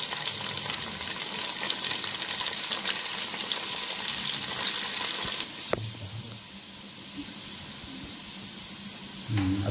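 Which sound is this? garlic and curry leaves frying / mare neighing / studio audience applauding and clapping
garlic and curry leaves frying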